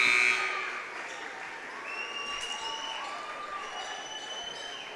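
A long electronic buzzer sounds at the end of a quarter in a girls' high school basketball game in a gym, ringing over a cheering, applauding crowd that keeps roaring for several seconds.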